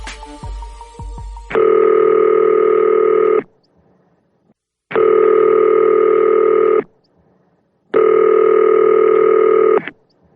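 Telephone call tones: three long, steady, loud tone bursts of about two seconds each, separated by silent gaps, follow a brief burst of busy mixed sound at the start, like ringback on a call going through to voicemail.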